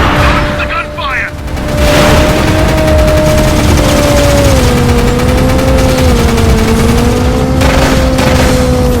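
Gunfire in the PSP game Pursuit Force: a loud, continuous rattle of rapid shots over rumbling vehicle noise and a steady engine-like tone, with a brief dip near the start.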